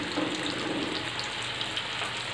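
Chicken pieces deep-frying in hot oil give a steady, dense sizzle and crackle, close and continuous throughout, with no voices.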